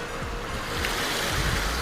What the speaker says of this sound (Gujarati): દરિયાની લહેર મોજા